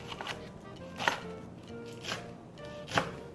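A knife chops leeks for kimchi fried rice on a cutting board, giving a few soft, irregularly spaced thuds with quiet handling noise between them.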